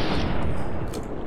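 A gunshot in the video game Fallout: New Vegas is fired into an enemy's body during a stealthy approach, giving a loud, close burst of blast with a rumbling tail that fills the brief moment.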